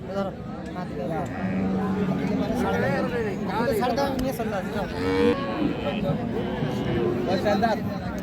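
A four-tooth-age dairy cow with her heifer calf at a rural cattle market, repeated close moos over a constant crowd babble of chatter and voices.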